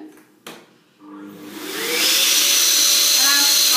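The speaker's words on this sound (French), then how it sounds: "donc ça c'est mon aspirateur habituel" An ordinary household vacuum cleaner used on lino flooring starts up after a couple of knocks and rises into a loud, steady high-pitched whine with a roaring airflow hiss.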